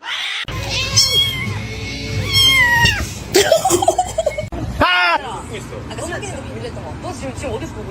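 A male cat meows several times in clear, rising and falling calls up close, with people talking and laughing over and between the cries.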